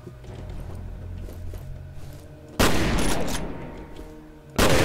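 Shotgun fire in the video game F.E.A.R.: two loud, sharp blasts about two seconds apart, each cutting through quieter in-game ambience and leaving a short decaying tail.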